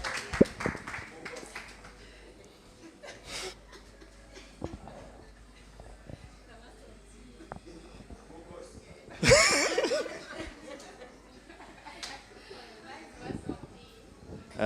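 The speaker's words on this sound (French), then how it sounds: "un tonnerre d'applaudissements pendant que Jordan s'avance" Applause and scattered clapping at an end-of-internship certificate ceremony, with a loud burst partway through, mixed with chuckles, laughter and a master of ceremonies speaking French over a fairly quiet hall.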